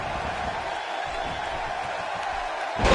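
Arena crowd noise in the wrestling video game WWE 2K17, a steady loud roar filling the whole moment with a brief swell near the end.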